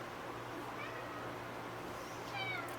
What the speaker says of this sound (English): This is the one you guys kept hearing meowing in the background